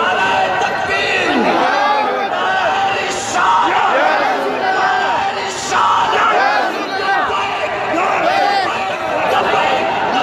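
A large crowd at a religious speech gathering roars a takbir slogan in unison, a loud, dense wall of massed voices yelling and chanting continuously throughout.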